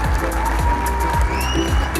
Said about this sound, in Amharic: በዲስቲንክሽን የጨረሰ ተማሪ ነው። አጨብጭቡ።